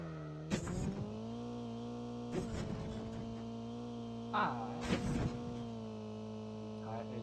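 A steady car engine hum with a low drone, punctuated by a few sharp bursts and clunks, from a car idling and revving in Call of Duty: Mobile.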